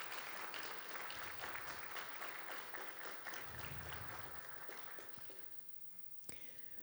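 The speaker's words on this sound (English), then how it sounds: "if we could give them a round of applause for getting you to where you are today" Audience applause at a white coat ceremony: steady mid-level clapping from a seated crowd for several seconds, thinning and fading out near the end, with a sharp isolated knock just before it stops.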